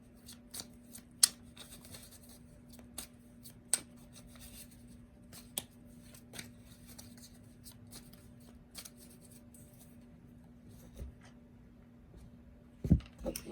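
Soft, intermittent shuffling and riffling of tarot cards close by, with scattered sharp taps and slides over a low steady hum.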